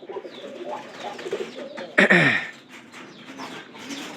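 Pigeons in a newly built loft give soft cooing and calling throughout, with a louder burst of fluttering or a nearer call midway, then quieter murmuring coos.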